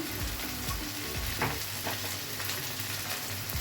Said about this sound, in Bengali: দিয়ে দেবো কুচনো টমেটো, দিয়ে দিচ্ছি নুন